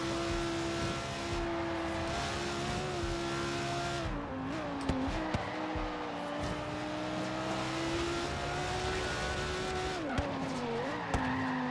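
Racing cars in Forza Horizon 3 roar through a last lap with a steady, loud engine drone that shifts pitch through gear changes. Brief tire squeals and bumps cut in, with no talking.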